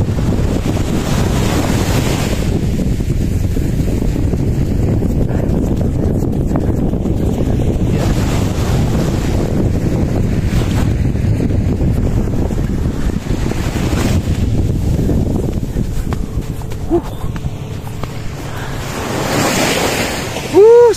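Ocean surf rolls onto a fine-sand beach in Ilocos Norte, a loud continuous roar of breaking waves with heavy wind buffeting the microphone throughout.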